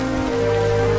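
Heavy rain pours down hard on a quarry, a dense, steady hiss of drops hammering surfaces with no pauses, loud and close throughout.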